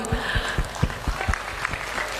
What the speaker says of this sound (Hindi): मैं ताली मारती हूँ।